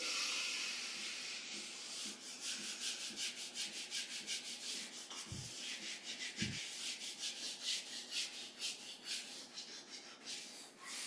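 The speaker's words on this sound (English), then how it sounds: "Rub our hands together." Two palms rub briskly together in a steady back-and-forth rhythm, close and soft, a dry swishing friction repeated many times, with two dull thumps partway through.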